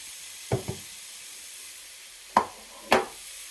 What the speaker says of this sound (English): with the residue bits in the oil, in the pan of the oil, I'm going to add the mushrooms